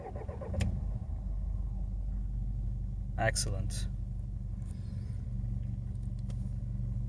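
A 2000 Mercedes-Benz E200 CDI W210 with a 2.2-liter four-cylinder diesel engine runs with a steady, close low rumble, while someone says a brief word over it.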